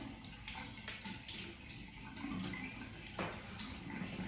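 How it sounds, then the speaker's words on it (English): Tap water runs steadily into a sink to wet a makeup brush for cleaning, a continuous hissing splash at close range with no talking over it. "So I'm gonna turn on the water"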